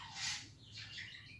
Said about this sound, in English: Wow, that bird is loud.